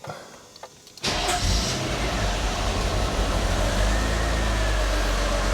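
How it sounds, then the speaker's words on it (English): A 1988 Mercedes-Benz 300 SL 3.0 petrol engine cranks briefly and catches after a quiet second, then settles into a loud, steady idle close by, with no talk over it. "I shall start the engine up and let it tick over for a few seconds"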